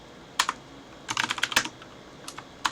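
Quick bursts of keystrokes on a computer keyboard while setting up a Linux command-line environment: a single tap, then a rapid run of clicks, and a few more keypresses, close and clear in a quiet room with no talking.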